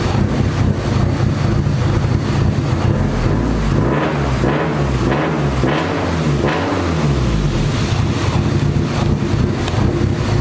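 A built Nissan SR20DET with 272 cams, big turbo and straight-piped exhaust idles warm and lumpy, a loud continuous low rumble with uneven pulsing, heavy wind noise over the microphone.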